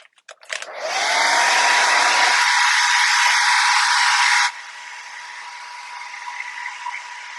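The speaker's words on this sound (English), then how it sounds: "so I'm gonna blow dry again" A hair dryer switches on with a few clicks and roars close up as it blow-dries an acrylic painting, a loud steady whoosh that drops to a lower speed halfway through and keeps blowing.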